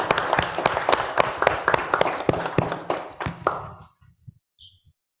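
An audience claps at a Black Dragons Den pitch event, a dense patter of many hands that is loud at first and thins out to a few scattered claps before stopping.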